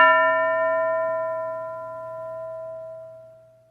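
A classroom bell gives a single clear metallic ring that decays slowly over several seconds, alone and close.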